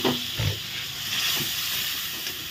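Water from a rinsed spice bowl hits masala frying in a pan for prawn malai curry, setting off a steady, close hiss and sizzle that holds for a couple of seconds.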